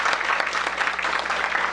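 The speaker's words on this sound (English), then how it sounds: "Give them another round of applause." An audience at a middle school event claps for the teachers, a dense, steady round of applause throughout.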